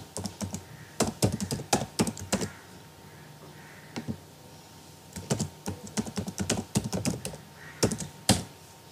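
Typing on a computer keyboard while entering a password during AWS free account signup, with quick bursts of clicky keystrokes separated by short pauses, close and fairly clear with no talking.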